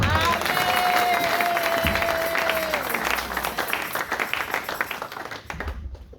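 A church congregation breaks into sustained applause that rises to a dense clatter and then thins out, with a voice and a long sustained tone heard over the start.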